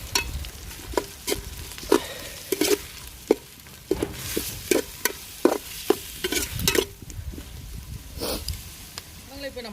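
Onions, ginger paste and tomato are stirred and sautéed in a pan for beef biryani. A spoon scrapes in irregular repeated strokes over a soft continuous sizzle, close and fairly loud.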